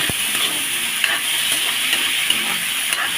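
Bean sprouts sautéed with tomato and chicken gizzard sizzle loudly and steadily in a pan while being stirred, with faint occasional scrapes and ticks beneath the hiss and no one speaking.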